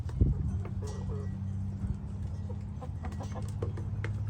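A flock of chickens feeds on beans and pasta, with a busy patter of pecking and scratching close by, soft clucks scattered throughout and a low hum underneath.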